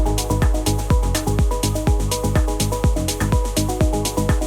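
A punchy Serum synth bass pulses in a steady rhythm beneath a bright, repeating arpeggiated synth line, loud and upfront with no voices.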